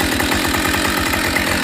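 A Husqvarna 572 XP chainsaw running with a loud, steady buzzing drone and rapid pulsing, heard close and alone for a brief moment.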